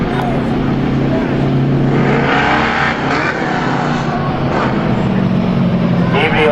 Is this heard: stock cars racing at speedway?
yes